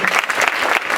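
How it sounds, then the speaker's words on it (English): A panel audience gives a brief burst of dense, close clapping at a resort retro weekend event. "big round of applause for the Ninja Turtles"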